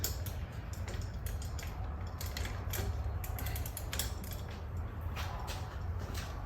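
Small metal clicks and ratcheting creaks as a BMX bike chain is put back together and adjusted, close and fairly quiet over a steady low hum, with no talk.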